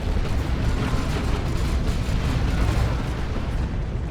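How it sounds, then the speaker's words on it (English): Tank Buster Barrage in the Dawn of War 2 battle game, a dense continuous roar of rumbling explosions and blasts layered together, loud and sustained without a break. "Tank Buster Barrage as well."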